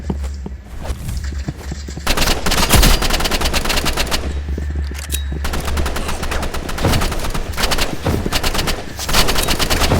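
Rapid gunfire from a weak sniper rifle in the video game Rivals, dense continuous bursts of shots with loud sharp reports filling the stretch, alongside other weapon fire.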